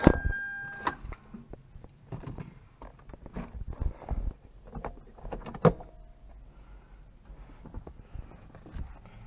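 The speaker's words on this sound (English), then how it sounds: "Roll the windows down." Power windows in a 2005 Toyota MR2 Spyder roll down amid clunks and clicks from inside the car, with brief motor whirs and scattered thumps close by.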